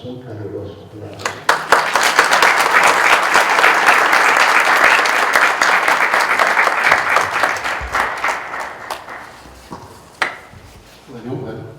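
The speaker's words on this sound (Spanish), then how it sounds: "Le damos un caluroso aplauso." Warm audience applause for a philosophy doctor being honored, starting with scattered claps, swelling into loud sustained clapping for several seconds, then thinning out to a few final claps.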